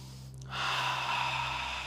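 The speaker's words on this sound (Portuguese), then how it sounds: "Respira bem fundo." A single deep breath drawn in and held during a guided group exercise, a soft breathy rush rising after a brief quiet moment over a steady low background hum.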